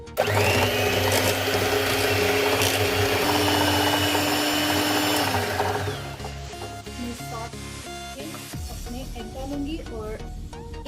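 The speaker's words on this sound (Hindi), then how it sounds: "मैं अपना बीटर चलाती हूँ और साथ में मैं अपने एग डालती हूँ।" An electric hand beater whirs loudly through cake batter as eggs go in, a steady motor drone with a tonal hum that drops and changes pitch partway through, with faint background sounds.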